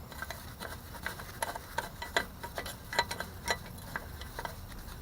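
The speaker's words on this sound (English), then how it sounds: "put your ratchet on it" A hand ratchet wrench tightens a truck brake chamber, giving a steady run of light, rapid clicks with a few louder ticks, close and without talk.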